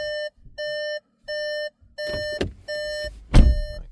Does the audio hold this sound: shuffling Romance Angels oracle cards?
no